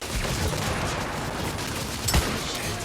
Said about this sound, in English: We have to ward off a small wave of enemies, which is no problem thanks to the carbine and a grenade I picked up earlier